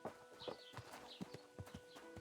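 Horse hooves clip-clopping in the video game Kingdom Come Deliverance 2, a series of distinct, evenly spaced hoof knocks on the ground, faint and with no speech.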